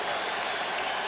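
A crowd of nearly 80,000 at Cleveland Stadium roars and cheers steadily near the end of the third quarter of a 1987 Bills at Browns NFL football game, a dense, continuous wash of noise.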